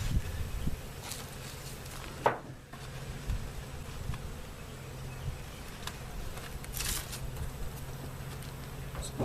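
Bees buzz faintly around an opened hive after its inner and telescoping covers come off, a low steady drone with a louder pass near the middle and some soft handling noises.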